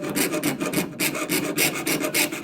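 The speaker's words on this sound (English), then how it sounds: "keep sawing in place as I try to make these curves" A jeweler's saw cuts a metal heart held against a bench pin, its rapid rasping strokes steady and close, running back and forth without pause as the blade follows curved lines.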